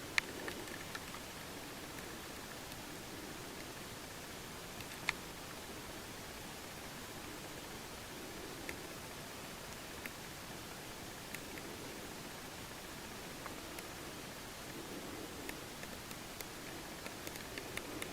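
Steady rain falling around a hunting stand in eastern Oregon during an elk hunt, a soft continuous hiss with occasional faint drops, heard alone and at low level.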